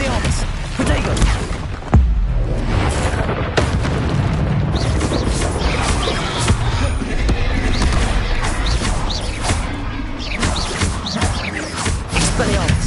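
Expelliarmus and Protego spell effects in Hogwarts Legacy: a dense, loud barrage of magical booms, crashes and impacts, continuous for the whole stretch, with a voice calling out spells over the clamour.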